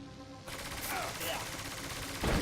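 A layered machine gun effect from a Unity game, built from mechanical, punch and body layers, fires as a dense continuous burst with a heavier thump at the end.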